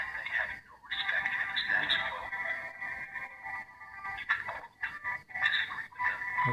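A song plays through a cell phone's small speaker and is picked up by a V380 WiFi camera, sounding thin, tinny and boxy, with a steady midrange melody and brief dropouts.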